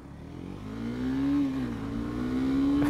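A brand-new 2019 Honda CBR 300R motorcycle in its break-in period revs up close, the engine note climbing steadily and holding a strong buzzing pitch for a few seconds.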